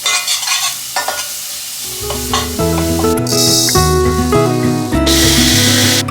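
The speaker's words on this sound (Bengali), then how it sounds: "আগে পেঁয়াজটা ফ্রাই হয়ে যাক" Onion paste frying in a pan for mustard chicken, loud close spattering and stirring, joined by steady tonal music midway with bursts of bright hiss.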